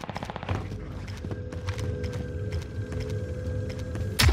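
Rapid TEC-9 fire in Call of Duty Warzone on Rebirth Island: a quick burst of close shots at the start, then scattered fainter distant shots over mechanical game hum, with one loud hit at the end.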